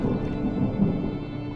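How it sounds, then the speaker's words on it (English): Distant thunder rumbles low and steady for a moment in the video game Draugen, a broad rolling swell with a slight peak midway and no voices over it. "Was that thunder?"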